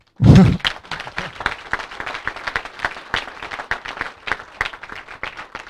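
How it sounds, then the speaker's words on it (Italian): An audience at the La Granda farm near Genola breaks into sustained applause after a speech, starting with a sharp burst then settling into steady, dense clapping from a crowd, no talking. "penso che si meriti un applausino."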